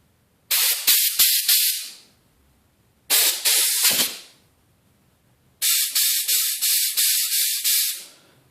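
Three sharp bursts of compressed air from an air hose cleaning a part of a 1992 Craftsman 5HP Tecumseh mower, each a loud hissing blast made of rapid pulses, with short pauses between.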